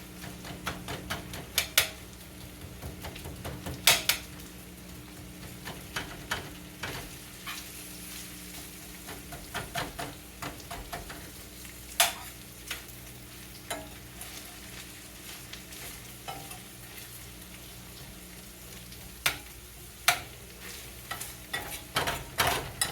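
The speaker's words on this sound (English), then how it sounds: "that's what I'm going to fry my cabbage in, is the fat from the ground beef" Cabbage frying in ground beef fat, a steady low sizzle with repeated sharp scraping and tapping of a spoon against the pan, no talk.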